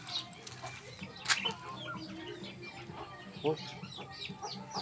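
Chickens cluck and squawk in a rural provincial coop that once held pigs, with scattered calls near and far over steady background noise and a brief spoken exclamation.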